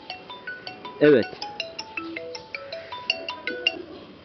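A mobile phone ringtone plays a bright, repeating melodic pattern of short electronic tones for an incoming call, fairly close, with a man's brief spoken answer partway through.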